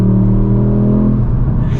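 A Ford Fiesta ST in its 2024 facelift form, with a close, loud engine drone that falls in pitch as the driver downshifts, breaking into a rough, crackly burble near the end.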